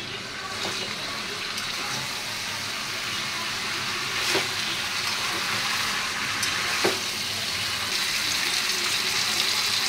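Water is added to a pan of country chicken curry with turmeric, coriander powder and ginger-garlic-green chilli paste, giving a steady close sizzle and bubbling hiss with a few sharp clinks, no voices.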